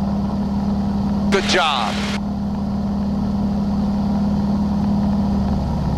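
T-6 trainer aircraft radial engine throttled back to 30 inches of manifold pressure at 1950 RPM, a steady loud droning hum with a strong low tone filling the whole stretch, a brief voice speaking over it early on.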